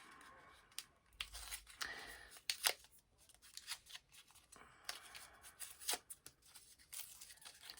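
Packing tape is ripped and peeled off a beauty subscription box during an unboxing, with bursts of tearing, crinkling plastic and rustling at close range, irregular and choppy, and no voice.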